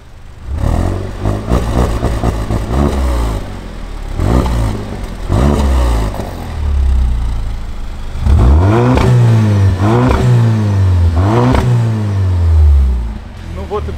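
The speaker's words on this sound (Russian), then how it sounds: "Теперь открываем заслонку." An Audi A5 engine revs hard several times through a valve-controlled exhaust with the valve open, short sharp bursts followed by longer, louder roaring pulls with a throaty, crackling exhaust.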